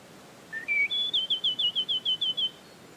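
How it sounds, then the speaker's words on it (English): In the Garden Life game soundtrack, a bird whistles a little ditty: a rising pair of clear notes followed by a quick run of about nine bright, evenly spaced chirps, alone over a faint hiss. "here we've got a bird that plays a little ditty"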